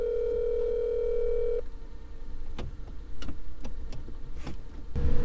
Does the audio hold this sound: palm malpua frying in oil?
no